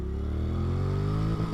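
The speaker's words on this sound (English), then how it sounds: "You hit the rev limiter pretty quick there," Honda NC700X motorcycle engine revving hard near and loud, a steady rising drone that holds at the rev limiter before a brief stutter near the end.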